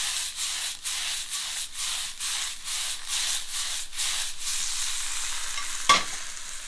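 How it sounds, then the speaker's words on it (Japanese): Agretti stir-fried fast in a smoking-hot pan: a steady broadband sizzle with rhythmic scraping strokes roughly every half second, close and fairly loud, ending with a sharp clack near the end. "さっと炒めていきます"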